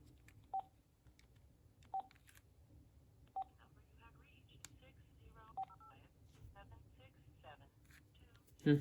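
A DECT 6 cordless answering phone sounds short, faint keypad beeps at uneven intervals over a low background hum, with a voice speaking quietly around them.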